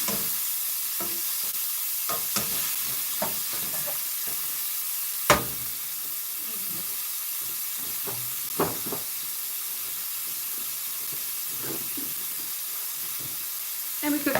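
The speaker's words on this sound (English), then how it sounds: "cooking the ground beef in the sausage" Ground beef fries in sausage grease in a pan at a home stove, giving a steady close sizzle and hiss. It is broken by occasional scraping stirs and clanks of the utensil.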